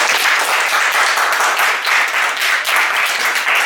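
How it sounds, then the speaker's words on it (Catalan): Students in a classroom applaud their classmates, a dense, even burst of clapping that stays loud and steady throughout. "un aplaudiment pels emojis"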